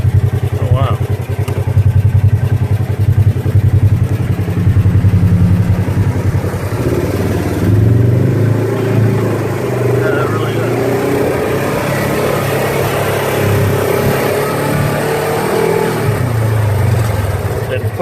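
A Polaris RZR XP1000 side-by-side fitted with hand controls starts up and runs, its engine rumbling loudly and steadily up close while voices talk over it.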